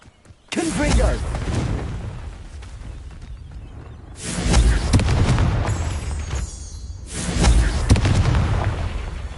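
Confringo fire spells blasting in the Hogwarts Legacy video game: three loud, booming explosive bursts in sequence, each with a sharp onset and a long rumbling decay, filling the clip.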